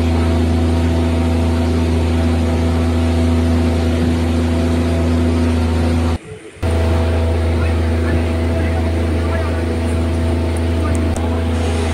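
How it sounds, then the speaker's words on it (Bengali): A motorboat speeds along a forested waterway, its engine a loud, steady, close drone that barely changes for the whole stretch apart from a brief dip, with voices faintly over it. "আর এই দেখুন খুব স্পিডে কিন্তু বোটটা যাচ্ছে।"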